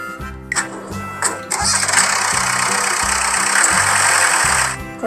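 A tractor engine runs at a steady, loud drone for most of the clip, starting with a few sputtering bursts before settling into a continuous rumble, with a rhythmic low pulsing beneath it.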